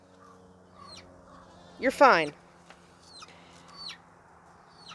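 A hen gives a single loud grumbling cluck up close, with softer clucks and chirps around it in a quiet coop, while a person speaks briefly and gently.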